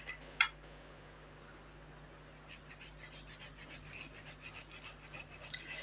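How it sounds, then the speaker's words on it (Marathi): Whole fresh nutmeg rubbed against a small grater by hand, a soft, close rasping in quick repeated strokes, preceded by a single faint click. "ते जायफळ मी आता आपण ह्याच्यात किसून घालून घेऊया"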